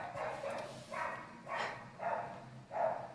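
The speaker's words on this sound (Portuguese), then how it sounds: "Esse cachorro, às vezes, ele late do nada e ele tem um latido estupidamente alto e escandaloso" A dog gives five loud, sharp barks in an even rhythm, each burst spaced about half a second apart, close to the listener with no talk around them.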